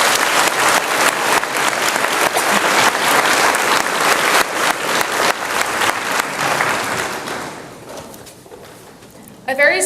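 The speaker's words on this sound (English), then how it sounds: "Please give them a round of applause" A room of guests at a school honors breakfast applauds the counseling secretaries with steady, dense clapping that thins and fades out near the end, followed by a few scattered claps.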